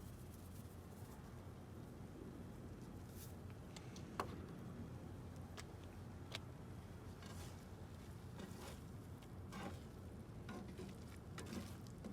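Eggs and bison burgers sizzle in a pan in a truck camper parked in a Walmart lot, a faint, steady hiss with scattered small ticks and pops and no one speaking.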